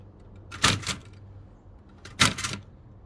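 A Toshiba BW-3112 Japanese typewriter makes two separate brief mechanical clattering bursts about a second and a half apart, close and moderately loud, with quiet between them.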